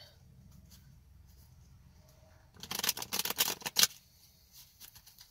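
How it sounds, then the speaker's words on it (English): Tarot cards are shuffled in a burst of quick, crisp riffling slaps lasting about a second, close and fairly loud, after a quiet stretch of faint low room hum. "shuffling up my cards real good"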